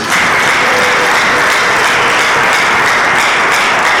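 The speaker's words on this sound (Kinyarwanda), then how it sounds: "Dukomere Imana amashyi" A church congregation claps in praise of God, a loud, dense and sustained round of applause that fills the space evenly from start to finish.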